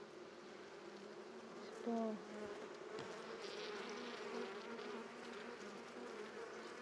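Honeybees buzz steadily around an open beehive during an inspection, a continuous faint drone with a brief louder pass, while a person speaks quietly.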